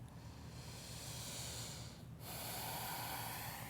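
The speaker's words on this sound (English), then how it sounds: "Deep Ujjayi breathing." Deep Ujjayi breathing during a yoga flow, a slow, steady breath with a soft hiss, heard close and evenly sustained.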